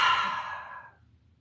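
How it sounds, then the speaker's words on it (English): A single deep exhale during a guided breathing exercise, a breathy sigh close to the microphone that fades out over about a second into quiet. "So taking in some of those deep breaths again"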